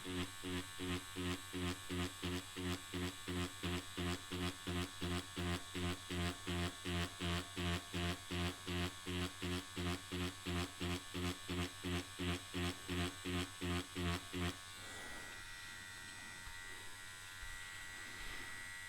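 An Ambition Soldier Max tattoo machine with a 4.0 mm stroke runs at 6 volts, giving a steady, fast, close electric buzz for about fifteen seconds before cutting off into faint background hum.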